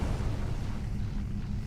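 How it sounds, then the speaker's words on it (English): A starship explodes in Star Trek Online, a deep, rumbling boom that rolls on heavily for the whole moment with no voices over it. "That was a big explosion."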